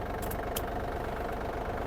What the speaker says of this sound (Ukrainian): ось перша передача, трактор їде